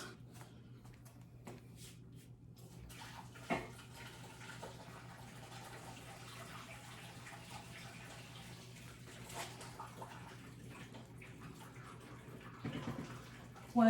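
Water pours from a pasta pot as it drains in a kitchen, a steady faint gushing wash that runs through the whole stretch with a few clanks, and no one talking.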